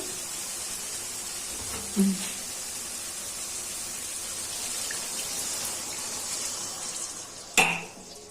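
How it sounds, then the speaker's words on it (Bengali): A fried masala sizzles softly in a pan, with two brief louder spatters and clinks as eggs go in. "এখন ডিম দিয়ে দিচ্ছি"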